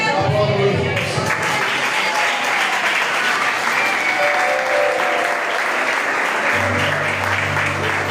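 Church congregation applauding at a Sunday family service, a dense, steady wash of clapping throughout at even loudness, with a low hum or organ-like tone entering near the end.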